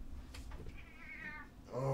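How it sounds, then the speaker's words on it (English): A cat meows several times, drawn-out harmonic cries rising and falling over a low background rumble, ending in a louder, sharper yowl close by. "Annoying cat."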